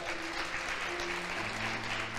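Applause in a church service, a steady dense clapping from the congregation filling the whole moment, with a faint sustained tone underneath.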